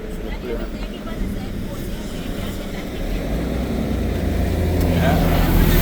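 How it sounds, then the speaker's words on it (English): An airplane near the airport at Montego Bay, Jamaica, produces a broad engine rumble that grows gradually louder over a few seconds, blended with outdoor road noise. "See the plane."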